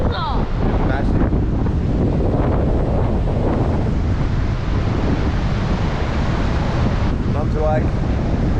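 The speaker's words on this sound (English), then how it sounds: "Yeah, that's another wind blow there. You can see the wind blowing through." Strong cyclonic wind buffets the microphone on a K'gari Fraser Island beach, a loud continuous roar blended with crashing surf from big waves, with faint voices breaking through now and then.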